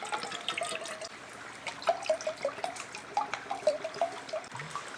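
Water trickles and drips into a Jetboil Flash Java stove cup at close range, with irregular splashes and droplets that grow busier partway through.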